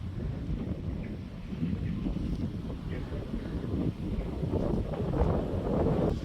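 Steady wind buffeting the microphone on an ancient barrow at Avebury, a low rumbling roar that swells slightly toward the end, with no clear voices.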